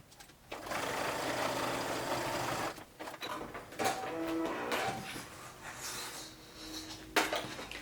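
A sewing machine stitching vinyl and fabric for a makeup bag runs in a steady, close, buzzing stretch for about two seconds, then in shorter bursts separated by brief pauses and small mechanical clicks.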